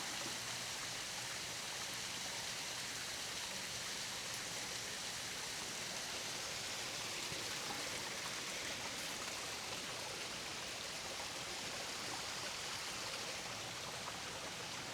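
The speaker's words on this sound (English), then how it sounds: "So yeah, there's the falls." A waterfall and stream on a peaceful Birmingham hiking trail pour in a steady, even broadband rush that holds unchanged throughout, with no voices over the water.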